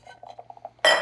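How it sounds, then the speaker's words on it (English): Cocktail shaker packed with ice, preceded by a few light glassy clinks and taps, then a sudden loud burst of vigorous rattling shaking at the very end. "Shake vigorously with ice."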